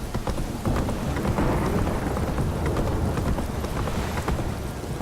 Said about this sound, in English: This downpour's a bastard in it.